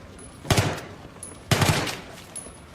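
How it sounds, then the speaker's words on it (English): A gun in three-shot burst mode fires two sharp bursts about a second apart, each a quick cluster of close, loud shots, with quiet between. "What this does, it shoots 3 bullets out at a time."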